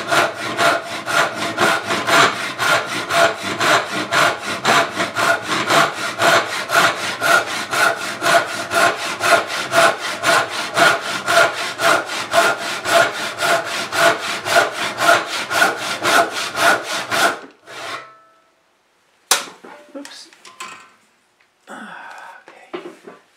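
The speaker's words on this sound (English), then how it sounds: "is using a tenon saw to cut out my center tenon and the two side dovetails" Tenon saw cutting a wooden tenon and two side dovetails by hand: steady, rapid rasping strokes run loud and even for about seventeen seconds, then stop, followed by a few faint scattered knocks and scrapes.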